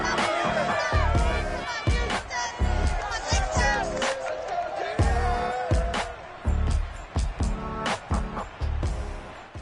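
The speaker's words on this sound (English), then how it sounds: "this crowd enthusiastically cheering on their Texans as they emerge from the locker room" Stadium crowd cheering in EA Sports Madden NFL 22 as the Texans emerge from the locker room for a Monday night game, a loud sustained roar with rhythmic surges, under a commentator's voice.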